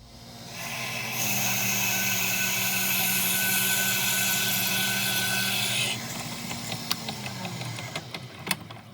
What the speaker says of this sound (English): we're going to drill this out with a 1/2 inch and then step it up to the 19/32